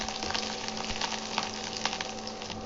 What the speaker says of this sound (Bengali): মাছ ভাজার তেলে দিয়ে দিচ্ছি কুচিয়ে রাখা রসুন আর কুচিয়ে রাখা আদা